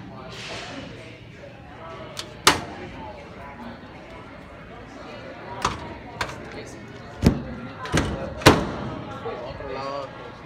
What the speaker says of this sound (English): do you like that dryer door noise?